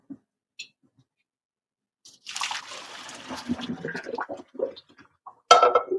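Liquid is poured out of a pot during herbal medicine prep, an irregular run of splashes and trickles with a few clinks against the vessel, close and fairly loud after a quiet start.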